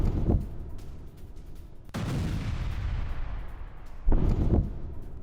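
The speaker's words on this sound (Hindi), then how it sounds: "कीव में 25 से ज्यादा जगहों पर धमाके हैं" Explosions ring out across Kyiv during a Russian missile attack: three heavy, booming blasts, each followed by a long rumbling roll that fades slowly, with no voices.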